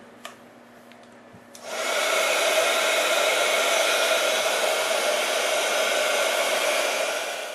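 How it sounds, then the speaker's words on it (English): A handheld heat tool dries ink on crinkle ribbon, starting after a quiet moment with a few faint clicks, then blowing in a loud, steady, close whoosh that holds to the end. "And then I'm going to use my heat tool to dry it."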